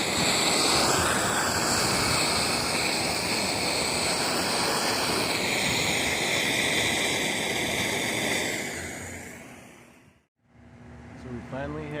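Strong wind roars steadily against the microphone with a broad rushing buffet, then drops out abruptly near the end, leaving quieter background sound.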